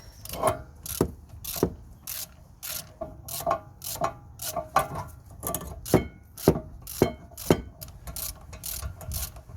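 A Kia Ceed rear brake caliper piston with an electronic handbrake is wound back with a T40 bit, giving a steady run of sharp ratcheting clicks at an even rhythm, close and fairly loud with no talk.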